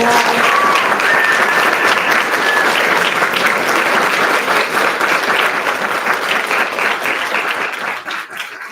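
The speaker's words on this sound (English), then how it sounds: "I think we can give these people a round of applause" Audience at a school committee and town council candidates forum giving a long round of applause, dense and loud clapping that holds steady before tapering off near the end.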